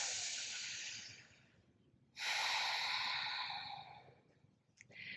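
A person exhales audibly during a yoga arm movement, with two long, airy breaths through the nose close to the microphone, separated by a brief pause, then a shorter sniff at the end.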